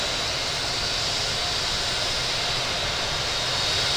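A Southwest Boeing 737 MAX 8 taking off from JFK, bound for Midway, gives a steady, loud broadband jet roar with hiss, unbroken for the whole stretch, with no voices.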